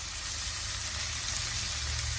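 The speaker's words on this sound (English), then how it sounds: "start to put our rosemary, put our butter, and start to bath the butter onto the steak" A steak sizzles in a pan as it is basted with butter and rosemary, giving a steady, even hiss of frying fat with a low hum beneath and no distinct individual pops.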